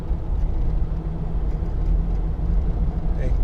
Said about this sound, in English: you get a bit of tyre noise. It's got these cross-contact tyres on, but it's not too intrusive